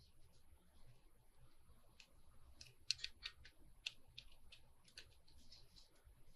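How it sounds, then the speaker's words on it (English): Scissors cutting the ends off fabric for slot pockets: a series of quick, light, crisp snips in irregular bursts over a low steady background hiss, fairly quiet and close. "All right, let's cut the ends off."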